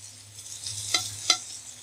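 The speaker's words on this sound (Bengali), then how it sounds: "আলুগুলো প্রায় ভাজা হয়ে গেছে। এখন আমি বাঁধাকপি দিব" Potatoes, cabbage and onion fry in a pan for a Spanish omelette, giving a soft steady sizzle broken by two sharp scraping clicks of stirring.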